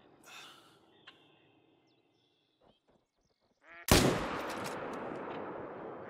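A single sharp, loud rifle gunshot cracks after a stretch of quiet in theHunter: Call of the Wild while hunting moose in New England Mountains, followed by sustained noisy rumble and ambient game sounds.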